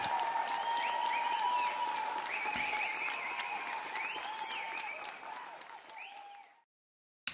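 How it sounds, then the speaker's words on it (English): Audience applause after a pencak silat martial arts performance, a steady wash of clapping heard under faint music, fading out near the end. "They deserve a round of applause."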